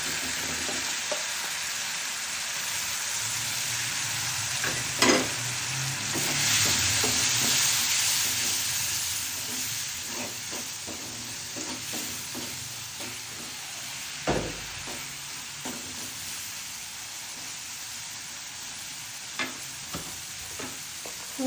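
Garlic paste fries with salt, cumin powder, turmeric and chili powder in a pan for a laitta fish curry, a steady hissing sizzle with occasional stirring taps and scrapes, quiet and unvoiced.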